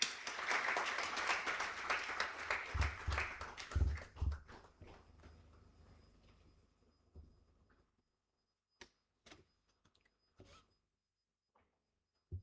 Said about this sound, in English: May I have a big round of applause?